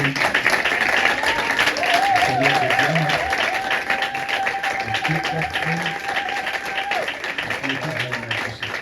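A church congregation claps and cheers together at a Sunday service, a dense, steady wash of applause lasting throughout, with a sustained tone and some voices mixed in underneath.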